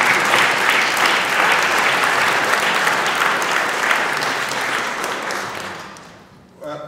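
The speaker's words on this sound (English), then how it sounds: "by your clapping you've demonstrated your appreciation to the Chair of the Charity Commission" A conference hall audience claps in a dense, sustained round of applause that fills the room, then fades out over the last seconds before a brief final burst.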